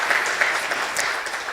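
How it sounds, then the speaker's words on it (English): An audience at a fintech breakfast event claps together for the participants, a dense, even burst of applause filling the room, fairly loud and continuous, with no talking over it. "Let's clap for each one of us."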